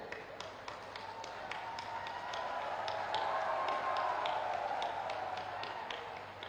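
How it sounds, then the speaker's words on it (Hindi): Audience at a gathering of prominent citizens in Amroha standing to applaud and welcome the Chief Minister: steady, fairly distant clapping with sharper individual claps, swelling slightly midway. "सबसे खड़े होकर के ताली में आकर के माननीय मुख्यमंत्री महोदय जी का स्वागत करने की कृपा करें"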